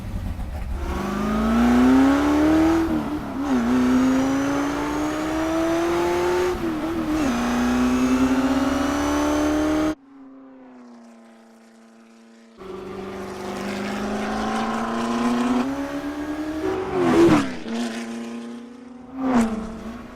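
Race car engine sound effects for the film Ford v Ferrari: a loud, close engine revving and climbing through the gears in long sustained pulls, then a short quieter idle before more hard acceleration with sharp shifts.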